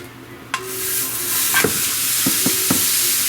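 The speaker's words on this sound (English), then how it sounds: "I'm gonna go ahead and dump my ground beef in here" Ground beef hisses in a frying pan on a stove at medium heat, a steady bright sizzle broken by several sharp scrapes and clatters of stirring, close and clear.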